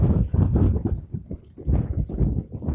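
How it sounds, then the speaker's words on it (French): Gusts of wind buffet a camera microphone outdoors, making heavy, low, uneven rumbling bursts that swell and drop several times, loud and close, with no speech. "La rafale de vent qui a failli faire tomber la caméra"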